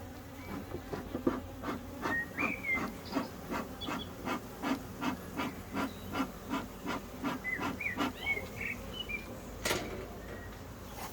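Honey bees in an opened brood frame hive colony give a steady, pulsing buzz close by, with regular rhythmic surges throughout and a sharp knock near the end.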